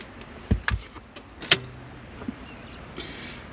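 A set of old keys for a C3 Corvette, left lying around for thirty years, jangling in a few short metallic clinks and rattles, close by and separated by quiet gaps.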